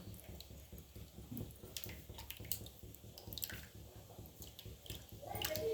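Tamarind is squeezed and dissolved by hand in water for a traditional bitter gourd kuzhambu, giving soft, continuous wet squishing and dripping sounds at close range with no talking.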